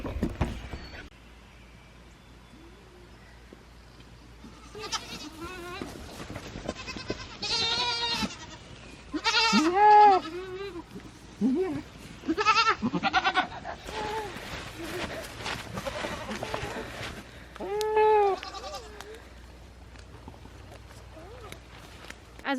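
Several goats bleat repeatedly, their wavering calls coming in bursts close by, with faint shuffling and rustling in between.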